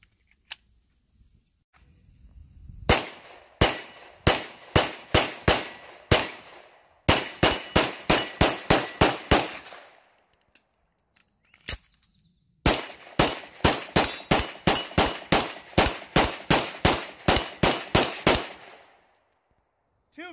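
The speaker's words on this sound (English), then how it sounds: "Get some more rounds through it." Arex Rex Delta pistol fired outdoors at a target a little under 20 yards away, the sharp reports coming in two long rapid strings of evenly spaced shots separated by a brief pause, loud and close with no talking.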